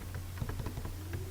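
Computer keyboard keys clatter in a quick irregular burst while typing text into an MS Word document, close and fairly quiet with no speech.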